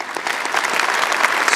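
Audience at a university fall convocation gives a steady round of applause, dense and continuous clapping from a large crowd with no speech over it.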